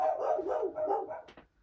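Dogs bark in a fairly close, continuous run of overlapping barks that fades out toward the end.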